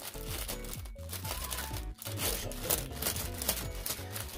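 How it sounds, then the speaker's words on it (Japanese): Plastic packaging crinkles and rustles steadily and close up as Macross Frontier concert merchandise is unpacked, with irregular crackling handling noises and no talk. "ちょっとビニールガサガサ本当に申し訳ございません。"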